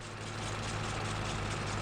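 An old tractor engine in Farming Simulator 22 idles with a low, steady rumble and a constant hum, running alone and unchanged throughout.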